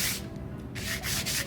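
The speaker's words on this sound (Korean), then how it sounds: "상태에서 정반 위에 사포를 올려놓고 연필선이 차근차근" A hand plane blade pushed across sandpaper laid on a flat plate gives steady, close abrasive rubbing strokes, one short pause separating two scraping passes.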